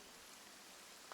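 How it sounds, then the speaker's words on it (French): Steady soft hiss of rain ambience from a relaxation app, a faint even wash of drops with no other sounds. "Il y en a, ils aiment travailler avec le son de la pluie en fond."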